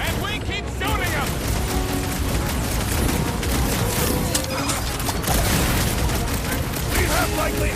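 Dense, chaotic gunfire and explosions in the Guardians of the Galaxy video game as enemy troops are shot, a loud continuous barrage with booms and mechanical clatter under frequent character dialogue.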